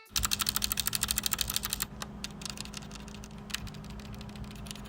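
Rapid close-up keystrokes on a 1stPlayer MK8 Titan mechanical gaming keyboard, a dense burst of clicky presses for about two seconds, then sparser, quieter taps over a steady low hum.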